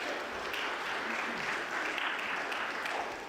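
An audience at a school event gives a short round of applause, dense, continuous clapping from many people in a hall, moderately quiet and steady before tapering off at the end.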